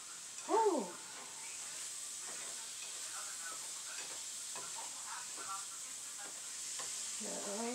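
Mushrooms cooking in a pan give off a steady, fairly quiet sizzle and hiss, with a few brief stirring sounds and a faint voice near the start and end.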